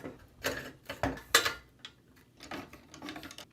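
A lock nut is tightened on the seat crossbar of a Gyroor G13 hoverboard, producing a few soft, close metallic clicks and ratchet ticks in quick, uneven succession.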